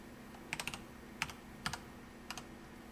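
Sparse keystrokes on a computer keyboard: a few short clusters of crisp clicks spread over about three seconds, fairly quiet and close, with no voices.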